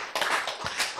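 A church congregation gives a short burst of clapping at a Korean sermon, a loud, close flurry of overlapping hand claps lasting about a second.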